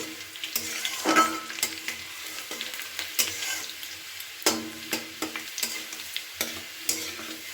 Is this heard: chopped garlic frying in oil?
yes